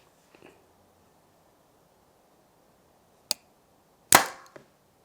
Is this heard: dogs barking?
no